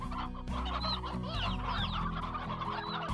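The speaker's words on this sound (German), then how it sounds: "einen Hahn habe ich hier drinnen." A rooster clucks in the video game Slime Rancher, giving a string of close, loud chicken clucks and short squawks with fowl chatter layered underneath, without speech.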